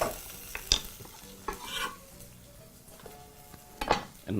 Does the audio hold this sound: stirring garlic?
yes